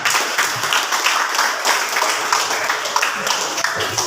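Classmates clap after a student group presentation in a classroom, a steady patter of applause filling the whole stretch without talk.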